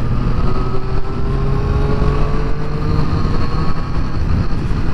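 Triumph Triple RS motorcycle engine drones loudly while riding, a steady close roar with rising harmonic whine as revs climb gently under wind noise.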